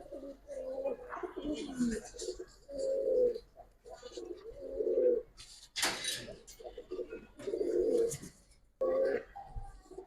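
Pet pigeons, Giribaz and coloured fancy breeds, coo in a series of soft, low, throaty calls at close range, each coo a short rounded burst with brief pauses between, alongside a sharp knock partway through.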